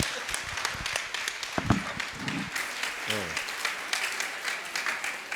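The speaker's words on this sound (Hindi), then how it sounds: "जोरदार ताली।" An audience at a Jain religious gathering claps steadily in dense, continuous applause that fills the room for several seconds, with a few voices mixed in.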